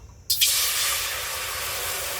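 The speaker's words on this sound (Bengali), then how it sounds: "কড়াইতে আমি কিছুটা জল দিয়ে দেবো গরম করার জন্য" Water splashes into a hot kadai (wok) and bursts into a loud, steady hiss of steam that starts suddenly and holds without pause to the end.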